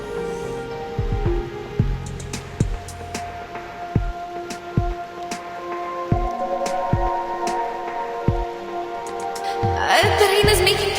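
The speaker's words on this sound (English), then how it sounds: "The rain is making too much noise." Soft, steady rain in the video game Reverse: 1999 patters in the background, with scattered individual drips landing close by.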